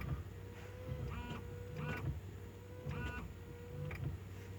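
Rear windshield wiper motor on a 2021 Renault Duster running after a squeak fix, giving four evenly spaced whirring sweeps over a steady engine idle hum, close and clear with no talk.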